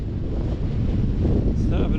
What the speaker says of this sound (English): Extremely windy, about 40-mile-an-hour headwinds